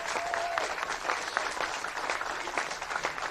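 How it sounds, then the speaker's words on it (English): A crowd of football fans applauds at a South Hobart club presentation, sustained, even clapping that carries through from start to finish. "you should all have a massive round of applause"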